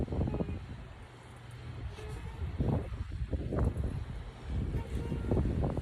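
Gusty wind buffets the microphone outdoors in uneven low rumbling bursts, with faint background noise between gusts.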